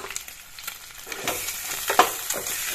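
Salt and turmeric stirred in a frying pan with a spoon, a soft sizzle under a few light scraping strokes, close and unaccompanied by voices.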